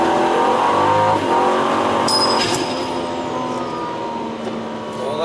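A custom all-wheel-drive turbocharged Ford Falcon FG launches hard from 0 to 100 km/h, its engine roaring loudly and continuously as the pitch climbs through quick gear changes, heard from inside the car.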